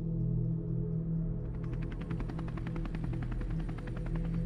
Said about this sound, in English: the helicopter arrived for extraction